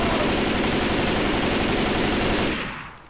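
Sustained automatic gunfire in the Left 4 Dead 2 zombie shooter game, a dense, loud, continuous rattle of rapid shots that cuts off and fades near the end.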